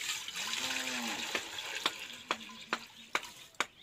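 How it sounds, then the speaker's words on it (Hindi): Water splashes into a large cooking pot being filled to make giant momos. A rising, gurgling pour comes first, then a series of evenly spaced, sharp drips or clinks, moderately close and fairly quiet. "इसमें मैंने पानी भर दिया है"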